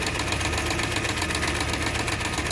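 Sewing machine running at high speed while stitching fabric face masks, producing a dense, even mechanical whir with a rapid rhythmic chatter, close and steady throughout.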